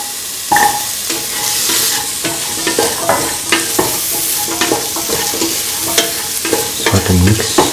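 Carrots are tipped into a hot pan and stir-fried with chicken rice, giving continuous sizzling, spatula scrapes and clatters against the pan, close and busy, with no voices.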